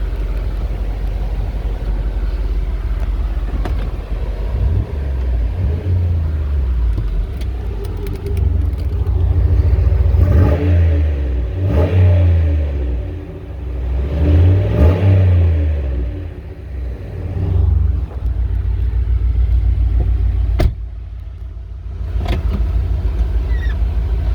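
The engine of a 2009 Chevy Impala SS idles with a deep, steady rumble, then is revved up in several swelling pushes before settling back to idle, heard close and loud.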